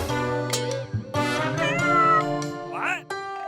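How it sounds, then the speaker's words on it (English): A black cat gives several drawn-out, wavering meows close up, with voices talking in the pauses, in a Halloween toy play scene. "What? A black cat?"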